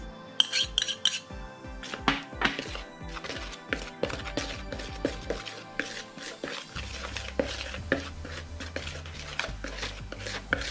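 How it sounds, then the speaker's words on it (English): A spoon scrapes, clinks and rubs inside a bowl as dry brownie ingredients are mixed, in an irregular run of close, sharp strokes with no talking. "chuck all the dry ingredients into a bowl and give it a good mix"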